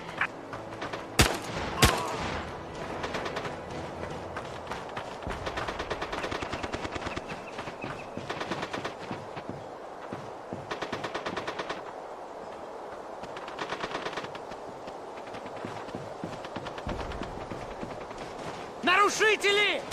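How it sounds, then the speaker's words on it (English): Machine gun fire in a video game: sustained rattling bursts of automatic fire almost continuously, loud and dense, with a few heavier single shots near the start and another hard burst at the end. "Taking heavy fire!"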